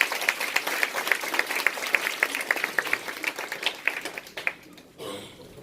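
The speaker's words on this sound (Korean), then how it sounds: "우리 두 분께 감사의 박수 한번 쳐주세요." An audience at a business success-story talk applauds with a steady wash of clapping and distinct sharp nearby claps. It thins out and stops after about five seconds, leaving a quieter room.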